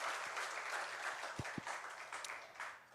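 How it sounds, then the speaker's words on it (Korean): Congregation applauding during a Sunday church service, a soft, fairly distant wash of clapping with a couple of sharper thumps partway through, continuing at low level throughout. "우리 하나님께 영광의 박수 올려드리겠습니다."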